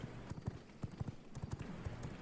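Horse hooves galloping in the game V Rising, a quick rhythmic clip-clop of repeated hoofbeats, fairly faint and steady, with no talk.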